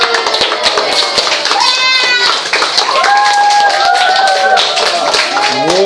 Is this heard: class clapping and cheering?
yes